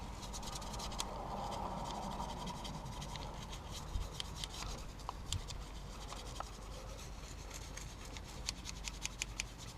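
Cleaner being scrubbed into brake dust on a car wheel, a steady close rubbing and scratching that runs throughout with a few sharper scrapes and no talk.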